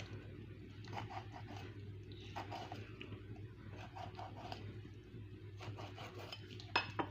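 A knife slices and scores crucian carp on a board in a home kitchen. Short, faint bursts of scraping cuts come in several separate groups against a quiet background hum.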